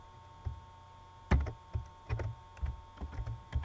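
Keys on a computer keyboard are typed in short irregular bursts of crisp clicks, close and fairly quiet, with no voice over them.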